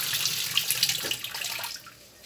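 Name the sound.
water filling a Suggar Lavamax washing machine tub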